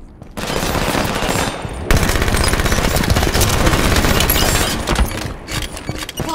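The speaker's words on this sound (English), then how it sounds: "Taking fire at you." Loud, sustained gunfire from the video game Halo 5: Guardians, with rapid automatic bursts pounding almost continuously after a brief quiet start and tapering near the end, dense and close.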